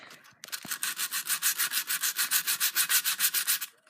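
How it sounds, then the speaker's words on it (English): Metal sandpaper rubs back and forth over the plastic logos of a Nerf Mega Magnus blaster, a fast, even run of about fifteen rasping strokes close up. "This is metal sandpaper, so it's gonna do it really fast."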